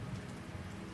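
Dense, steady rain from the Chess of Blades video game pours as a continuous broadband hiss, fairly loud and unbroken for a brief moment, with no voices.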